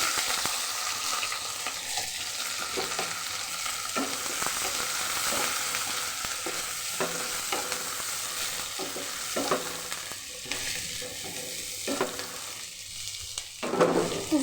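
Onions and cumin seeds fry in hot oil in a pan, a loud, continuous close sizzle with stirring scrapes and bursts of crackle that swell near the end, with no voices.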